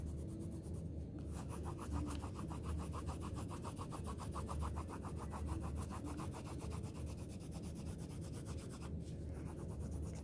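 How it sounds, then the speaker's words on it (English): The side of a pencil rubs lightly across paper while outlining a horse's head for a watercolour mixed-media piece, a quiet, steady back-and-forth scratching with a couple of brief pauses. "using the side of my pencil, going around just the outline"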